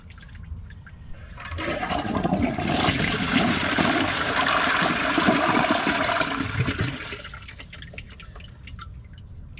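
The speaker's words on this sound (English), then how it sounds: "I like the flush." Close-up flush of a white 2012 Gerber Maxwell toilet with a water-saving flapper: a loud swirling rush of water builds and holds for several seconds, then fades into trickling refill and drips.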